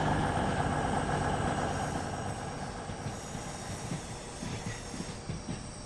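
A Pendolino train from Edinburgh rushes past close by with a loud roaring whoosh and hiss that eases off, leaving rhythmic clattering of wheels over rail joints.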